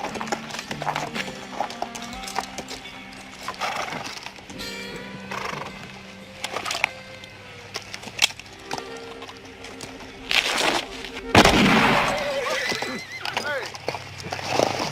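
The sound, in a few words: horses riding, hooves clip-clopping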